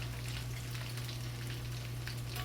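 Mushrooms frying in very hot grease, a steady dense sizzle and crackle with no pauses, close and fairly loud, with no talking.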